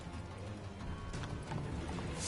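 Hooves of the horse Roach clip-clop at a gallop in a video game, a quick rhythmic pounding that grows slightly louder, with a brief whinny-like tone near the end.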